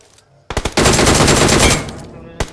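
Loud automatic gunfire in the mobile battle royale BGMI: a few quick shots, then a sustained dense burst lasting over a second, and one final shot after a pause.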